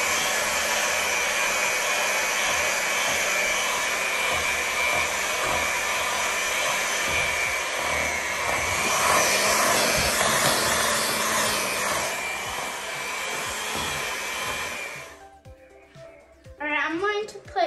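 An electric hand mixer whirs steadily as it creams brownie batter, a loud, continuous buzzing drone lasting about fifteen seconds before cutting off, followed by faint clatter.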